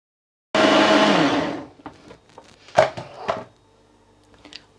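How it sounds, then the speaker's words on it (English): A kitchen blender grinds ginger into paste in one loud whirring burst of about a second, which then winds down into a few clinks and knocks of handling. "I'm going to give the blender a rinse and then repeat the process with the ginger"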